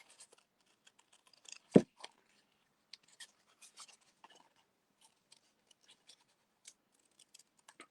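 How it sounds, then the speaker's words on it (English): Scissors cutting matte paper into a kite shape for a snow globe craft, giving one loud close snip followed by faint, scattered clicks and scratches in a quiet room. "you cut it into a kite shape."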